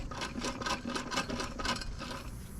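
Scraping, rasping mechanical rubbing as the torque converter of a separated 1955 engine and automatic transmission is turned by hand, a steady grinding texture with rhythmic pulses, close and moderately loud.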